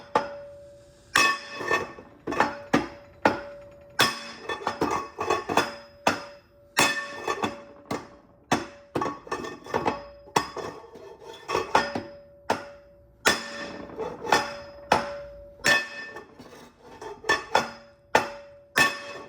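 A car axle is hammered into place with loud metallic hammer blows, struck in quick bursts of several hits separated by short pauses, with a ringing clank on each strike.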